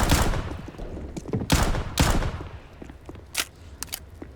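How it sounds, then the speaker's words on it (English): Counter-Strike match on Vertigo where gunfire rattles in loud close bursts, trailed by fainter scattered shots and footsteps. "Players just running around, running and gunning, just looking for what they can."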